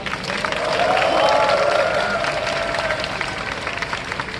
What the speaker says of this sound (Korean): 우리 서로에게 다시 한번 큰 박수 부탁드립니다